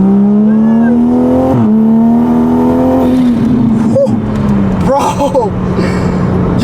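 A BMW M4 and a Toyota Supra accelerate hard side by side in a race, the engine note loud and climbing through a gear change before easing off, heard from inside the car with voices over it.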